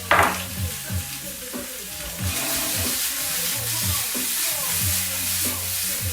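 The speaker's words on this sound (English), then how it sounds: "we're going to saute these for about 2 minutes" Blanched green beans sautéing in a pan give a close, steady sizzle with repeated tossing and stirring scrapes in a quick uneven rhythm, opening with a brief splashy clatter.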